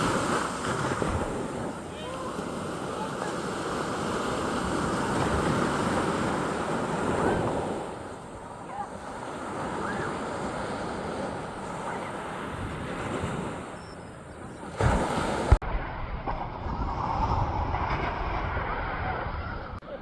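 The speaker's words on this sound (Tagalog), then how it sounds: "manood muna tayo ng mga nagsisurf at ng mga alon guys" Ocean waves and surf at a beach in San Juan, La Union, roll in as a continuous rushing wash that swells and ebbs, with wind buffeting the microphone and a sharp bump near the end.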